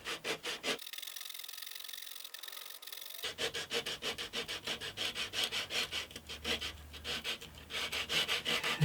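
A hand saw cutting through the wooden side of an acoustic guitar under construction, close rhythmic back-and-forth rasping strokes with a brief pause early on, then a fast steady sawing rhythm.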